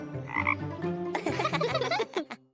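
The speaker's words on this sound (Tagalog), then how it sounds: "Isang palaka!" A cartoon frog gives a couple of short, throaty croaks up close. A bouncy, bubbly run of croaking burbles follows them.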